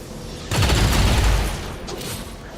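A loud, close burst of rapid automatic gunfire from the video game XCOM 2, one sustained volley of about a second that tails off into a lingering rumble.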